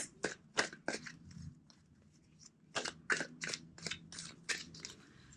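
Tarot cards shuffled by hand in a quiet room, heard as a series of sharp, close riffling snaps in two bursts separated by a brief pause.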